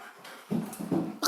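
A dog whines and huffs softly in short bursts during a training session, close by and fairly quiet, with a quick rising yelp at the end.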